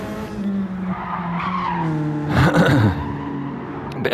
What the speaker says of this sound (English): A bit of a slide there through that last turn from Alba